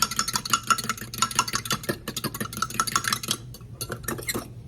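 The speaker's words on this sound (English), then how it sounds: "So I'm just gonna whisk this together." Half and half is whisked briskly in a bowl for pasta carbonara, a close, rapid and steady run of metallic clinks and scrapes with no talking.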